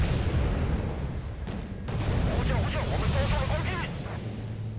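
Artillery barrage in the war strategy game Wargame: Red Dragon, a dense, continuous rumble of distant booms and bursts rolling on for several seconds with no talk.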